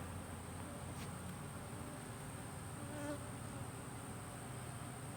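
A low, continuous drone of many honeybees buzzing together on a hive frame, steady and fairly close, with no talking.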